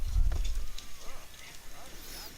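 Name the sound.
horse clip-clopping in the video game Red Dead Redemption 2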